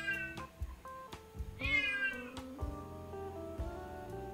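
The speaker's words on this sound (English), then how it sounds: "I hope you don't hear my cat." A pet cat meows loudly several times close by, its drawn-out calls rising and falling over steady background music and game sounds.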